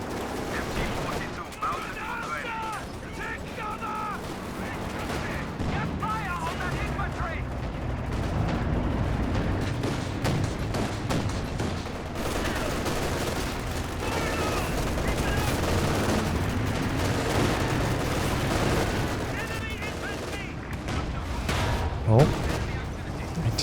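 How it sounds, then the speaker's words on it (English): Anti-tank guns firing in Company of Heroes 2, a dense battle soundscape of repeated cannon shots and scattered gunfire going off in every direction beneath a commentator's continuous talking. "AT guns firing off shots every direction here at the moment"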